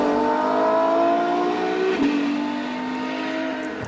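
Ferrari LaFerrari hypercar driven on a wet test track, its engine droning steadily with a pitch that climbs, dips briefly around a gear change, then climbs again, heard close and continuous with no talking.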